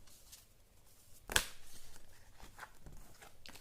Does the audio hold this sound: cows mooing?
no